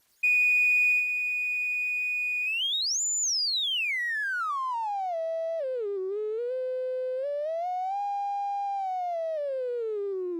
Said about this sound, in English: crank up the resonance so it self-oscillates